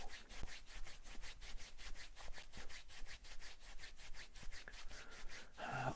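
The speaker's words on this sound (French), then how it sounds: "On frotte le visage." Hands rub briskly over a face in a quick, regular back-and-forth rhythm during a guided meditation, close and soft, with no voice.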